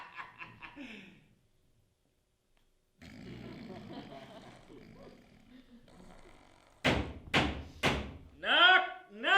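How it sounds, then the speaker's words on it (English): During a stage performance of Macbeth, three loud, heavy knocks strike a door in quick succession after a stretch of murmuring, followed by voices and chuckling. "Knock, knock. Who's there in the name of Beelzebub?"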